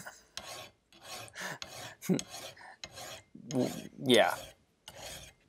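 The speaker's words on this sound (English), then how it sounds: "then started filing away at the hatchet" A metal file rasps across the steel head of an Estwing hatchet in repeated close strokes, scraping back and forth in an uneven rhythm with short pauses between passes.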